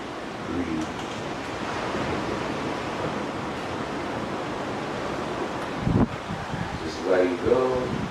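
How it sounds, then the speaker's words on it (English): Ocean surf washes in a soft, steady rush during an outdoor gentle yoga session. The surf sounds fairly distant and quiet, with a few brief voices and sounds breaking through near the end. "Just starting to listen to the sound of the ocean."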